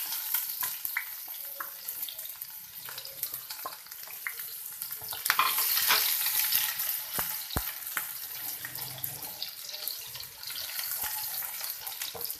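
Onions sizzle steadily in hot oil in a pan while being cooked to a light golden colour, a continuous close hiss with occasional soft clicks and a brief louder swell midway.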